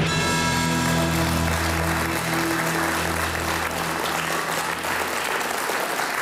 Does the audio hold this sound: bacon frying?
no